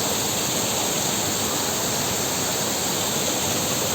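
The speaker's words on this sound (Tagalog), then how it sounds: "Yung galing tubig na galing sa falls na yun, dito lang mabagsak." A waterfall at a cottage resort pours down in a dense, loud, unbroken roar of falling water, close by and steady, with no voices over it.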